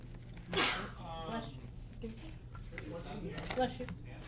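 A single sharp sneeze bursts out close by, followed by softer breathy sounds and quiet talk in the background.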